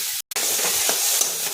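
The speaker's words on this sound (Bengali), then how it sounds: "মশলাটা ভাজা হয়ে গেছে" Spice masala with onion and tomato fries in a pan, giving a steady close sizzle with faint stirring scrapes and a brief dropout near the start.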